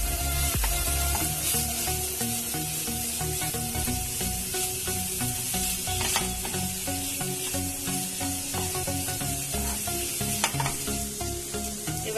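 Pumpkin and grated paneer fry in a pan while being stirred, a steady loud sizzle broken by scraping stir strokes throughout, with no talking.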